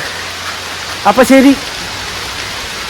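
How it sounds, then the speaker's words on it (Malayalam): Heavy morning rain pours steadily over a garden with trees and pearl grass, a constant even hiss that continues unchanged while a person speaks briefly partway through. "നല്ല മഴയാണ്, രാവിലെ 10 മണിയാണ്,"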